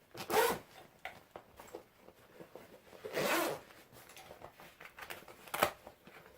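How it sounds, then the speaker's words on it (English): A zipper on a diaper bag is pulled in several quick, close strokes with short pauses and faint handling rustles between them, with no talking. "And then you can zip it up."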